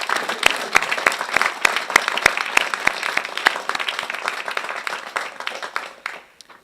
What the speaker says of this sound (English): I would like to ask you to join me in a round of applause for those individuals